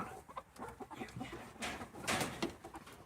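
Chickens cluck and squawk close by in a busy, irregular chatter, a few sharper calls rising near the end.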